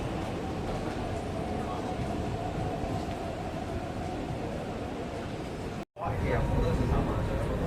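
Riding a Hong Kong train toward Kowloon from Mongkok: a steady, loud, broadband rumble of the carriage in motion, with a brief dropout near the end before the rolling noise resumes.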